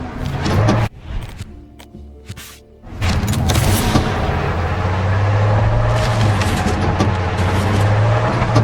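A car is driven in the video game Far Cry 6, its engine droning loudly and steadily after a few bursts of heavy impacts at the start.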